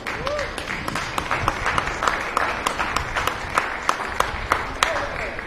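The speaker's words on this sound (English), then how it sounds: "let's go ahead and give our exhibitors a nice round of applause" Crowd at a county fair swine show clapping for the exhibitors, a steady scattered round of applause from a modest group, fairly close, with faint voices mixed in.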